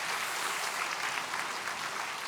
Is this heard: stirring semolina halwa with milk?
no